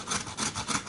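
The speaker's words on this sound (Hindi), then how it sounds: "इस तरीके से फिर जो है हमने इसे कद्दूकस कर लेना है" An ingredient for a homemade face pigmentation treatment is rubbed against a kitchen grater, giving three or four quick rasping strokes in a steady back-and-forth rhythm, close and fairly loud.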